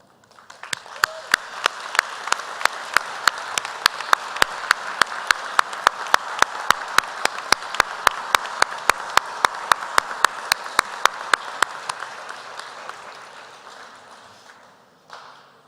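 Audience at an executive MBA commencement ceremony applauding at length, a dense steady wash of clapping with a few sharp nearby claps standing out, fading away over the last few seconds.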